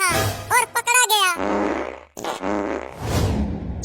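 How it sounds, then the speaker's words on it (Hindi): In a Motu Patlu cartoon, a character lets out loud, rumbling fart noises, which come between bursts of animated shouting and talk. "छी छी छी छी, कितना पादता है"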